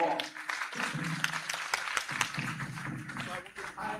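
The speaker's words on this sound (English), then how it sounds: "So please give them a round of applause." An audience at a panel dialogue gives scattered applause for the panelists, uneven claps heard faintly beneath a voice speaking over them.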